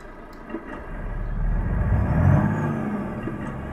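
Modded truck engine from Euro Truck Simulator 2 (Tanju Akdoğan Black Mamba mod, version 1.43): a steady, close, deep rumble that swells in volume and peaks about two-thirds of the way through, with no talking over it.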